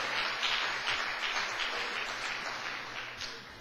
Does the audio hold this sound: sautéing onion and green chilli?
no